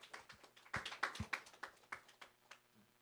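A small church youth-service crowd claps in sparse, uneven bursts to welcome a pastor and department head, quiet and somewhat distant, with no one speaking.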